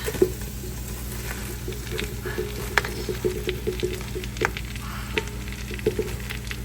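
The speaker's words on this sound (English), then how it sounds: "I'm going to be adding the Swiss chard to the pot." Swiss chard frying in a pot, a soft steady sizzle with scattered crackles and light stirring taps close by, over a low background hum.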